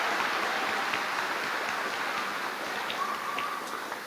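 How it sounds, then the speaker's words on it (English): Steady applause from a graduation crowd, dense and continuous at a moderate distance, with a few sharper claps standing out near the end. "Give yourselves a round of applause."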